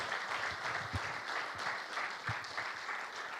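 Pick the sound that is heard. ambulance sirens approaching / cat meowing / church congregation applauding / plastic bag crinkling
church congregation applauding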